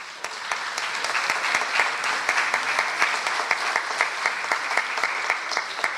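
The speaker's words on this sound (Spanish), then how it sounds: "Le vamos a brindar un muy fuerte aplauso" Sustained applause from an audience at an engineering conference in Lima, steady and fairly loud with distinct sharp claps throughout, no voices over it.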